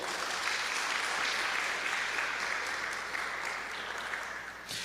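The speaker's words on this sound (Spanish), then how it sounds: "Denle un fuerte aplauso al Señor." Church congregation clapping together in sustained, steady applause that holds at full volume for several seconds, then tapers slightly near the end; a faint voice may sit underneath.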